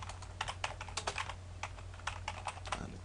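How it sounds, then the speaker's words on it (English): Fingers type quickly on a computer keyboard, producing a steady patter of light clicks close by over a low background hum. "let's type something here"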